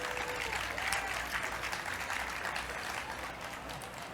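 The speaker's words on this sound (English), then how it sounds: "Another big round of applause for all of our presenters here today" A crowd at the 2023 Pittsburgh Recovery Walk gives a steady, sustained round of applause for the day's presenters, a dense wash of clapping that holds at an even level throughout.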